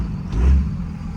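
Diesel pickup truck engine with an EDGE performance tuner installed, not yet fully warmed up, idling with a deep, loud low rumble that swells briefly in a short rev before settling back.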